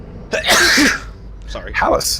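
A sharp, breathy sneeze bursts out, followed by a brief spoken apology.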